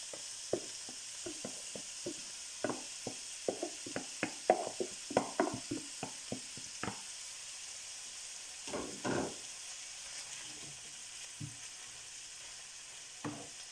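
Onions and grated carrots fry in a pan for beef samosa filling, a steady sizzle broken by a run of sharp scraping stirs in the first seven seconds, then a few sparser clinks and scrapes, close and alone.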